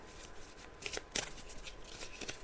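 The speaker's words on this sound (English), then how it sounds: "So I'm just shuffling the cards." Tarot cards shuffled by hand during a psychic reading, giving a quiet, continuous riffling and sliding with a few sharper flicks, fairly close and with no talk over it.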